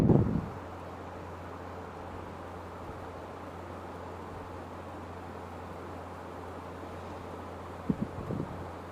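Strong wind gusting under a cloudy sky outdoors, a steady rushing roar on the microphone with a low hum throughout and a couple of brief bumps at the start and near the end, with no talking.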